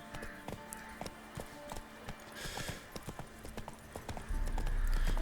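Roach the horse's hooves clop at a steady trotting rhythm in The Witcher 3, close and clear over a low ambient bed, with a heavier rumbling swell rising near the end.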